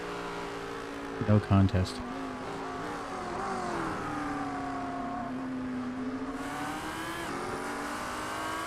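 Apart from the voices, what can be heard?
race car engine in a racing video game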